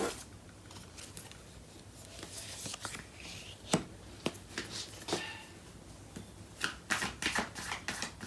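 A deck of tarot cards is shuffled close by, with quiet riffling, sliding and tapping in irregular bursts that grow busier toward the end, with no voices.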